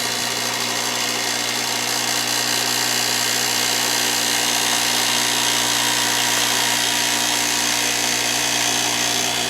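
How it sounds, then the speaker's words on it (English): A power sander runs steadily on a wooden arrow shaft being shaped for a longbow, a loud continuous high whine with a constant motor hum and no pauses from start to finish. "I'll take it back over to the sander here"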